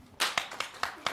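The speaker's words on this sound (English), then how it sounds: "Clap if you don't agree." An audience claps in a short burst of about five sharp hand claps, close and distinct, with no talking over them.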